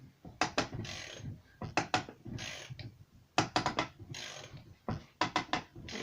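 A bearing puller is wound in against a socket during a Puch E50 engine rebuild, giving repeated clusters of sharp metallic ratcheting clicks in uneven bursts with brief pauses between them, close and clear with no voices.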